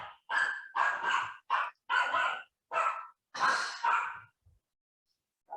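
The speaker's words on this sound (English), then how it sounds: "Let's wait for her to stop barking." A dog barks repeatedly, nearby and loud, about eight harsh barks in an uneven rhythm before a pause.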